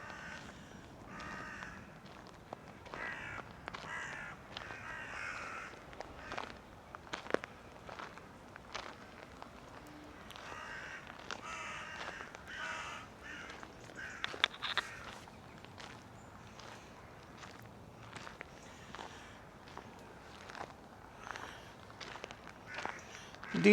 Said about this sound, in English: Lots of crows on the bank.